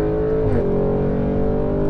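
A 2021 Audi RS6 with a 4.0 V8 and Pitstopshop tuning holds a loud, deep engine note near 5,500 rpm, with the pitch sliding briefly midway and no voices over it.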